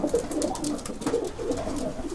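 Racing pigeons cooing close by in a loft near Gdańsk, Poland, several soft repeated throaty calls overlapping in a steady rhythm.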